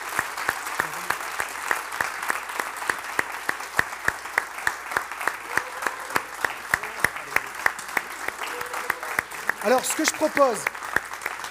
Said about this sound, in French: Tous les applaudissements.